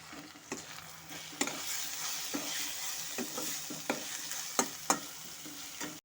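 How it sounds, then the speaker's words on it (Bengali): Rice tossed with ground cumin and turmeric in hot oil for a cabbage murighonto, a steady frying sizzle broken by repeated scraping stirs of the spoon against the pan, close and moderately loud with no talking. "এখন সমস্ত গুঁড়ো মশলার সাথে তেলের সাথে চালটাকে ভালো মতো করে মিশিয়ে নেব"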